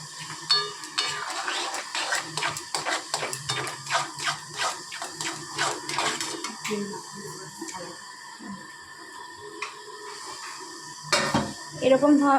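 Metal spoon scraping and clinking against a pan as a sesame and sweetener mixture for til naru is stirred over low gas heat, a steady irregular rhythm of scrapes that thins out near the end, with someone talking over it.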